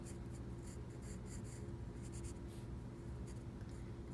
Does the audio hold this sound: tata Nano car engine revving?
no